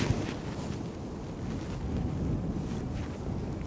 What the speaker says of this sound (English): Very windy just now.